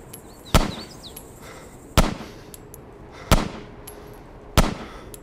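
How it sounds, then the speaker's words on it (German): Gunfire in the video game DayZ: four loud, sharp shots spaced roughly a second and a half apart, each with a short echoing tail, over a faint background with brief high ambient chirps and no talk. "Die kommen, glaube ich, gar nicht an, die Schüsse, oder?"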